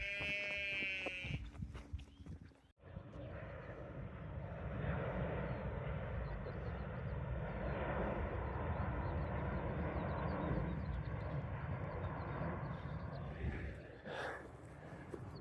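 F-35 Lightning jets flying over fell country, a sustained distant roar that swells and lingers across the whole stretch after a brief beeping tone at the start.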